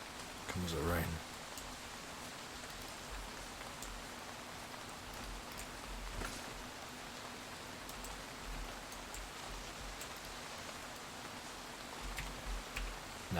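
Rain falls in Arma 3 as a steady, fairly soft hiss of drops with scattered ticks, and a brief louder burst near the start.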